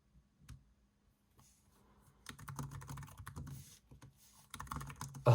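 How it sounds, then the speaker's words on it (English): Typing on a Lenovo X1 Nano laptop keyboard: a few isolated key taps, then bursts of rapid close clicking with brief pauses between runs. "let's test out the keyboard"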